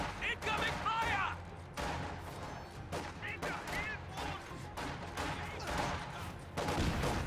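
Gunfire in the video game Company of Heroes, bursts of rifle and machine-gun shots with thuds, mixed under ongoing speech.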